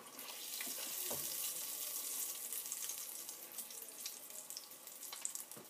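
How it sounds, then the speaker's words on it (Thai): Steady hiss and crackle of egg-and-flour battered rice balls frying in a pan, with occasional pops and sputters, fairly soft and continuous. "หน่อยก็จะเอาลงทอดเนาะค่ะ"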